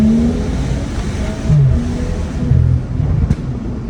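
A BMW 335i F30 with the N55 engine on an E30 blend tune revs in short, loud bursts, with its pitch rising and falling a few times.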